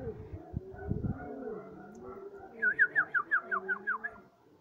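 Soft low cooing murmurs from pigeons, followed by a quick run of rhythmic whistled calls near the end.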